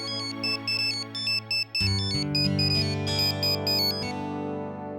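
A phone rings loudly with a bright repeating electronic melody, alone and close, with no talking.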